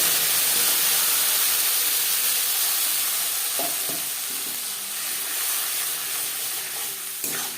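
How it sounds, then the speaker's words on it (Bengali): Cumin seeds fry in a small amount of oil for a Bengali tilapia fish curry, giving a steady, loud sizzling hiss that eases slightly partway through, with a few soft stirring scrapes and taps. "পনেরো কুড়ি সেকেন্ড জিরে ভেজে নেওয়ার পর দিয়ে দেবো মশলাকে"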